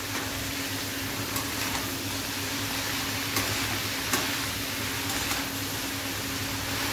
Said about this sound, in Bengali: এখন ভালো করে নাড়াচাড়া করে